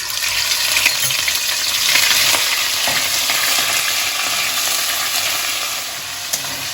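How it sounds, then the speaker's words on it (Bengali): Ginger paste fries hard in hot oil with tempering spices while being stirred for Bengali veg dal, a loud dense sizzle crackling steadily throughout, with a faint scrape of the spoon now and then. "আদাটা একটু আমি এক মিনিট মতো নেড়ে নেবো"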